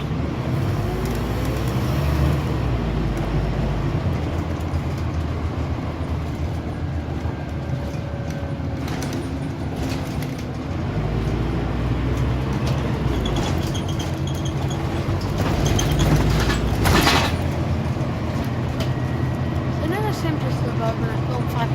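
Interior of a Scania OmniCity CN230UB single-deck city bus on route 309, a continuous loud rumble of engine and road noise with rattles and shifting drive tones as it travels, under occasional talk.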